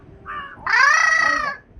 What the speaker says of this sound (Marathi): आणि काय ते बघ ते कावळा ओरड बघा